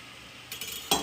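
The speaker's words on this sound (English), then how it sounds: "Give ourselves a good stir over here" A spoon stirs tortellini soup in a pot: quiet at first, then a few soft scrapes and one brighter clink near the end, close and faint.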